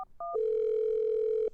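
Two short dual-tone beeps from a telephone being dialed give way to a long, steady electronic tone that holds for over a second before cutting off.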